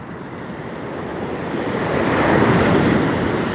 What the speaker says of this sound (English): Sit here and look at these waves for a minute.